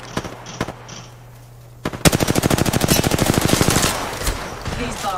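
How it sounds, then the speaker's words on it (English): Rapid automatic gunfire in a shooter video game, a loud, close, steady burst of evenly spaced shots lasting about three seconds, with faint voice chatter and game sounds before it. "Taking fire."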